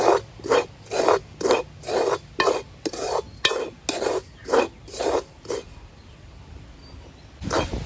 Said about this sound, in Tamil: இன்னும் கொஞ்சம் நேரம் நாங்கள் வறுக்க வேணும் வறுத்து கொண்டிருப்போம்